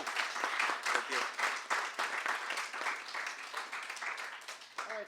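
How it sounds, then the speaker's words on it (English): An audience claps for an author at a book event, a warm round of applause with clear individual claps at steady loudness, close by, and voices talking over it. "Round of applause for June."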